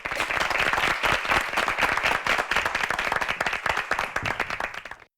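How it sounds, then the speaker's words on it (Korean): A studio audience at a Korean high school debate competition applauds a debater, dense continuous clapping that stays full and loud before tapering off at the very end. "박수로 환영해 주십시오."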